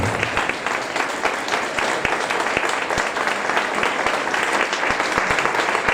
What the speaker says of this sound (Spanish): Dale el más grande y excelente aplauso a Jesucristo.